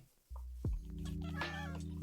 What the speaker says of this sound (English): I just heard another cat meow.